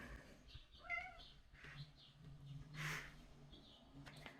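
A cat meows softly a few times nearby in a quiet room, brief plaintive calls spread across a few seconds with faint background rustle.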